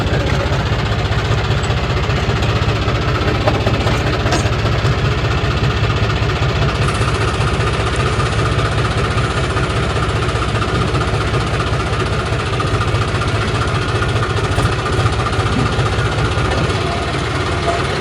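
Tractor engine running steadily on a descent through a hill pass while hauling a heavy load, a continuous loud rumble with low knocking vibration throughout.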